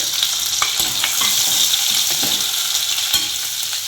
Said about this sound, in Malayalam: ഇനി ഇതിൻ്റെ കൂടെ നമുക്ക് ഇടേണ്ടതാണ് വെങ്കായം, അതായത് സവാള.